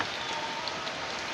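Heavy rain pours down in a dense, constant hiss, close and loud, with no voices.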